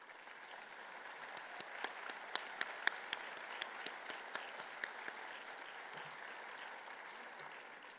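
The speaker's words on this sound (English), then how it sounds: "Would the guests representing our Gold Star sponsors please stand for a round of applause?" A banquet-room crowd at the Honoring the Brave breakfast applauds Gold Star sponsors, with steady, fairly soft clapping that carries a few sharper individual claps on top throughout.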